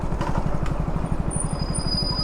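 A motorcycle engine runs during a bike taxi ride, putting out a steady, close, rhythmic putter throughout with no talking.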